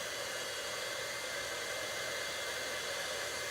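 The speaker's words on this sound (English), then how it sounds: "So I'm gonna heat my heat tool up, and then I'm going to melt the embossing powder on here." A heat tool warming up before melting embossing powder for a craft project gives a steady, close, even blowing roar that continues unbroken with no talk.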